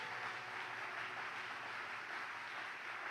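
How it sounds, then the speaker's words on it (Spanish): A church congregation claps together in a dense, steady wash of applause, distant and fairly faint, continuing without a break and with no voices on top. "Vamos, darle un aplauso más fuerte."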